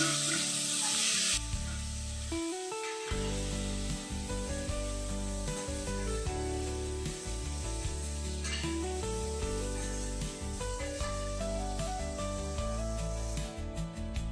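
Loud, steady sizzling of chopped onions frying in hot oil with mustard seeds, with music playing throughout and no talking.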